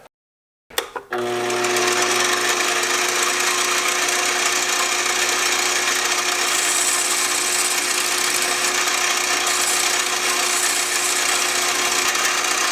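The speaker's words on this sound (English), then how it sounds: "if you just spin this up to speed and you put the hacksaw in here, you can cut things off without having to like use a tool on the lathe" A spinning lathe with a hacksaw held against it gives a sudden start after a short silence, then a loud, steady, continuous whirring hum that holds for the rest of the clip.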